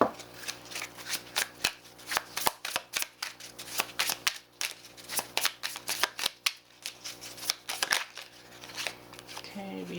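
Aboriginal Dreaming oracle cards are shuffled by hand in quick, uneven riffling bursts, close and crisp, continuing for several seconds.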